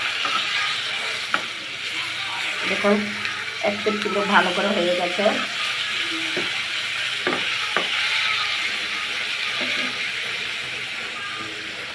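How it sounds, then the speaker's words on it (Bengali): Snakehead fish frying in a pan on a stove, a steady sizzling hiss with occasional scrapes and clinks as pieces are turned, while a voice talks briefly over it. "আমি মাছগুলা ভেজে নিচ্ছি"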